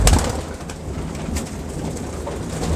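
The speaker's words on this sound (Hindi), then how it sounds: "ये लाखा कबूतर।" Lakha pigeons coo softly among a flock, low murmuring calls under faint ambient noise and occasional rustling, fairly close with no voices.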